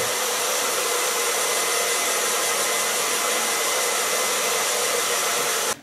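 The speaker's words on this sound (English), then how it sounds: "I'm going to blow dry the underlines." A hair dryer blowing hair dry during a salon styling session, a loud, steady close whoosh running unbroken before cutting off abruptly at the end.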